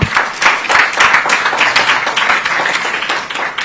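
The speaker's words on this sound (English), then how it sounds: "let's give a round of applause to the candidate for the responses he has said" Applause from an audience at a media briefing by a political candidate in Addis Ababa, a dense, steady wash of many hands clapping close by with no voices standing out.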